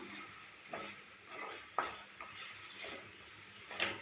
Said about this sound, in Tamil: இப்போது எல்லாத்தையும் நல்லா கிளறி விடலாம்